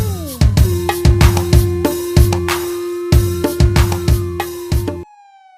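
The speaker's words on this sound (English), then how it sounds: "Yeah, there is siren." A siren wails steadily and loudly, layered with repeated sharp blasts in a quick rhythm, then cuts off abruptly near the end.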